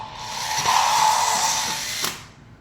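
A toy lightsaber's retract: a buzzing electronic hum fades down over about two seconds, with a short crackle near the end before it cuts off.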